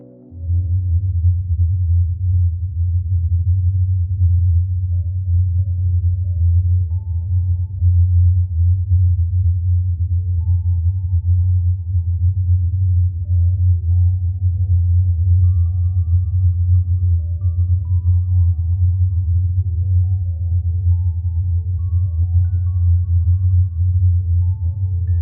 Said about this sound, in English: The result is a rhythmic, pulsing tone that reflects the planet's orbital motion.